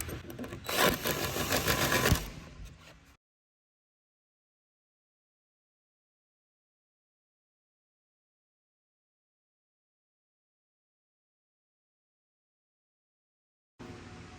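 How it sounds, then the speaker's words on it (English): A drill cuts countersinks into new plywood on a Crest pontoon boat in one short, close whirring burst that ends in silence. A brief noise returns at the very end. "I'm gonna go ahead and make my countersink on each of these"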